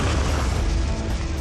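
A gas cylinder bursts in a huge, loud explosion, a dense roaring boom that fills the whole moment with no voices over it.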